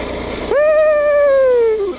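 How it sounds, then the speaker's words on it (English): A Coleman BT200x mini bike engine with a stuck throttle roars up suddenly and holds a high, steady buzzing pitch that sags slightly before cutting back, loud and close. "I've lost all control of the mini bike as far as throttle goes."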